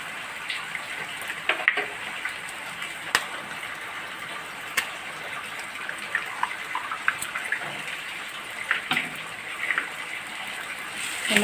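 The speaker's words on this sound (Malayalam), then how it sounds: "ഇനി അതിലേക്ക് 2 മുട്ട നമുക്ക് കൊത്തി ഒഴിച്ചു കൊടുക്കാം." Beaten eggs, two of them, hit a hot pan of wilted ingredients for chicken kappa biriyani, giving a steady, close, hissing sizzle with scattered crackles and pops that runs the whole time with no talk.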